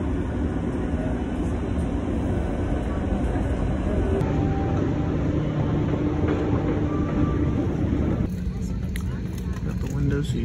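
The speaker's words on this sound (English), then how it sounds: "Please hold on. This train is departing." A departing train rumbles steadily along the tracks with a constant low roar, and people talk over it throughout.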